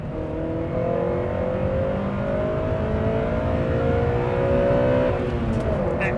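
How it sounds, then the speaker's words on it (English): A Honda Prelude engine revs hard from about 4,000 rpm, a loud sustained climbing drone heard close from the cabin, with the pitch rising steadily as VTEC engages and holding high before easing off near the end. "let's hear this VTEC kick in"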